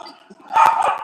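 A small dog gives a few quick, sharp, close barks in a short burst after a brief quiet stretch, with no talk.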